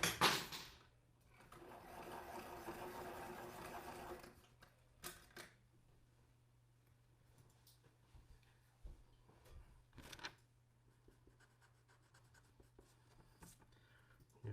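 An art tool, likely a pencil, is sharpened with a faint, close gritty scratching that lasts about three seconds. Sparse quiet clicks and rustles follow in an otherwise still room.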